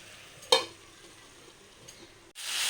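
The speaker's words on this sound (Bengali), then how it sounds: "আরেকটু ভাজা ভাজা করছি" A spoon stirs drumsticks and vegetables frying in a pan, with a sharp scrape near the start, quiet sizzling in between, and a louder burst of sizzle at the end.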